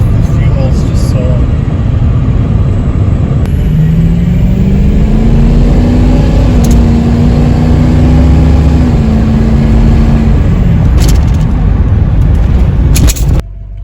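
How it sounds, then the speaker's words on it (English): A Ford Excursion's 6.0 Powerstroke diesel engine runs steadily and loudly throughout, with a low droning hum that rises slightly in pitch midway and then settles again. "Got the excursion Powerstroke running."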